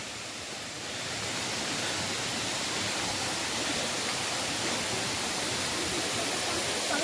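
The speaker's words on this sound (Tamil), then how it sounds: "இதுதான் ஃபால்ஸ்." A waterfall on a forest trek to Agasthyarkoodam roars in a steady, dense rush of water that swells slightly at the start and then holds constant, loud and close.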